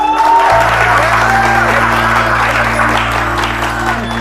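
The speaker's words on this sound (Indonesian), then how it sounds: "Tepuk tangan untuk Kemal." A live audience applauds loudly and steadily at a comedy show in Indonesia, the clapping setting in after a brief pause and continuing without a break, with a constant low hum underneath.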